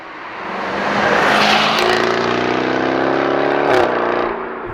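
A 2021 Jaguar F-Type R's exhaust swelling as the engine revs hard above 3,500 rpm, rising to a loud, sustained snarl with a brief burst near the end before easing off.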